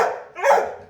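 A Labrador dog gives a single close, loud bark that swells in the middle and tapers off into a brief whine, with no other sounds around it.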